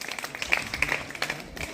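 Audience applause welcoming a guest onto the dais at a government school function, a soft patter of many hands clapping at a distance, steady and fairly faint throughout.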